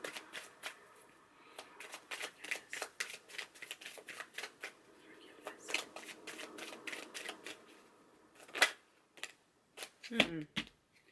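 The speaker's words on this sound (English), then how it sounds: "Let me pull some cards on this." Tarot cards are shuffled and pulled by hand, giving a long run of quick riffling flutters and crisp card slaps close up, quiet and rhythmic with louder bursts toward the end.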